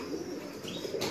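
Pigeon cooing among show birds at a pigeon flying competition in Lahore, soft repeated coos close by over a steady background of birds and faint wing flutter, with no talk.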